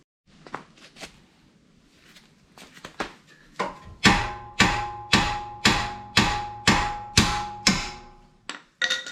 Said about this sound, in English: grab a hammer, give it a tap, hopefully it's going to fall out for me